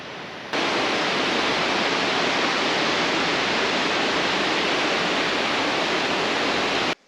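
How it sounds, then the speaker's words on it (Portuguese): Pimenta waterfall on the Estrada Real in the Serra de Cunha, a loud, constant broadband roar of rushing water heard up close, unbroken for the whole stretch. "Cachoeira do Pimenta."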